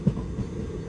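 The Parasuram Express rolls into Varkala Sivagiri station with a low, steady rumble of wheels on rails and a brief clack, heard from inside the train.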